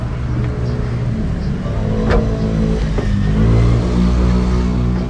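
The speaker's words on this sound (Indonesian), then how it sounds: "Bus kecil 3/4." Engine of a small three-quarter-size bus revving, a steady loud drone with rising and falling pitch throughout, close by and with no talk over it.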